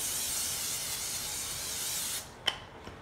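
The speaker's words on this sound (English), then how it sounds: "Spray this with cooking spray." A steady aerosol hiss of cooking spray onto foil for about two seconds, then it stops, followed by a couple of light clicks.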